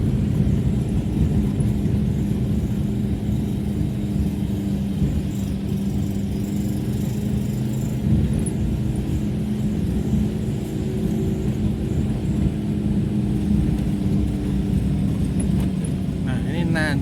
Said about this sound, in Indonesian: ini nanjak sangat panjang teman-teman, dan ini saya masih menggunakan gigi 2